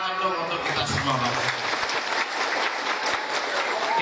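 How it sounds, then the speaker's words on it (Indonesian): A crowd at an Islamic boarding school gathering in Indonesia applauds, a dense continuous patter of many hands filling the room at moderate loudness, with voices blended into the din. "Tepuk tangan dong untuk kita semua."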